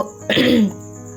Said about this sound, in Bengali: আমার কাশি হয় তো